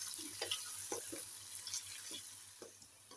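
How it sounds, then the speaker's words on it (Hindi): Onions browning in a pan over medium heat, a soft steady sizzle with faint scattered pops and crackles, continuous and fairly quiet throughout, no voices. "मीडियम आंच पे हम प्याज को ब्राउन कर लेंगे।"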